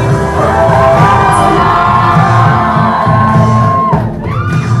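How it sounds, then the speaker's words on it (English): A party crowd cheers, whoops and shouts loudly and continuously for a kissing couple at an event with a DJ, with music running beneath the cheering. "And you guys cheer for them."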